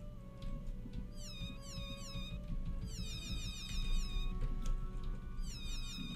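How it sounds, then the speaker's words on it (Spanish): Cartoon cat meows from the video game Geppaku: Monogatari, several clear repeated mewing calls in bursts over steady game background music, no talking. "¡Ah, el gato! ¡Oh, mira los michis!"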